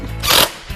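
A ratchet wrench tightening intake plenum bolts on a boosted hot rod engine in a garage, one short, close mechanical burst.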